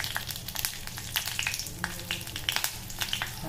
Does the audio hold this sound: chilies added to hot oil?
yes